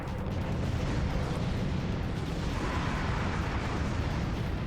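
Mega Rocket explosions in the video game Ratchet and Clank Going Commando, a continuous loud roaring wash of blasts and rumble that keeps steady from start to finish with no clear gaps.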